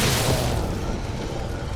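Explosive rounds fired in Resident Evil 3 Remake, one heavy boom up front that rumbles and decays into a lingering low roar.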